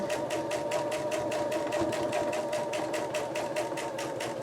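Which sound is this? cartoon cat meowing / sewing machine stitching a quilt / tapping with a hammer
sewing machine stitching a quilt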